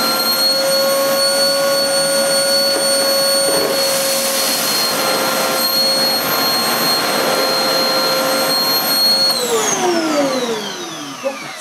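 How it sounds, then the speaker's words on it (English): Hoover Spritz bagless vacuum cleaner running on a hard floor, a loud steady whine with a constant hum held for about nine seconds, then the motor pitch sweeps down as it powers off. "see how the Hoover Spritz copes with hard floors"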